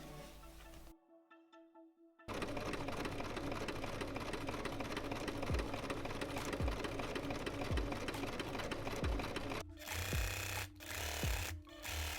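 A sewing machine stitches along the curve of a shirt collar in one continuous run of about seven seconds, with faint handling sounds before and brief clicks after it stops.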